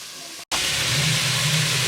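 Coarse chunks of bacon sizzle and hiss steadily in a hot pan, a close, continuous frying crackle broken by one brief gap near the start.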